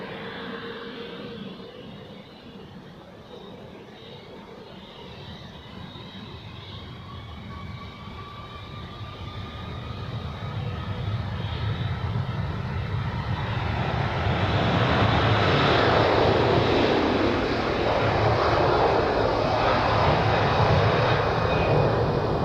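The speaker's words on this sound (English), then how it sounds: "Takeoff time for the A330 to Geneva." An Airbus A330 airliner taking off from Zurich Airport: a distant jet roar that builds steadily into a loud, broad engine rumble and hiss over about twenty seconds, with a faint whining tone early on.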